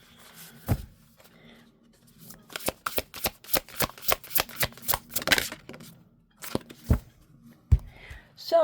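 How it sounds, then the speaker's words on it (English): Inner child oracle cards being shuffled by hand, a burst of crisp riffling slaps that sets in after a pause and repeats in quick rhythm, close and clear with a few scattered soft taps and no talking. "I want to pull you an inner child oracle card."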